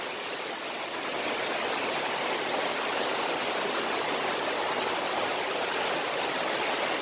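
A dense, unbroken roar of heavy rain pours down continuously, loud and even throughout with no voices.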